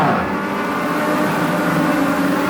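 Legends race cars roar around the oval at Sauble Speedway, a dense, continuous engine drone from several cars at once, steady and loud with no breaks.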